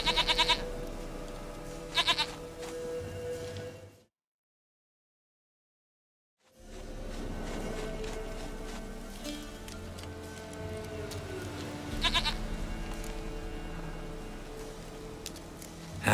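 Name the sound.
goat bleating in video game The Witcher 3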